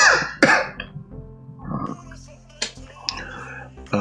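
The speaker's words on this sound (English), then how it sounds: "You'll just bear with that coughing." A person coughs and clears their throat a few times in quick, sharp bursts at close range, followed by quieter indistinct rustling.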